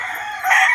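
A rooster crows briefly among a batch of eight newly bought fighting chickens, a bright strained call that swells louder toward its end, close by.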